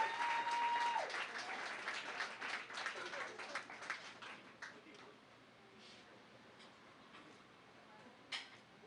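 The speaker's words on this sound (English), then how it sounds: "bathe her in applause as she comes to the front" Audience applause for an award winner at an awards presentation, a burst of clapping that starts fairly strong and gradually thins to scattered claps.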